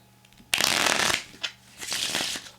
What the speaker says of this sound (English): I'll shuffle the cards as much as you'd like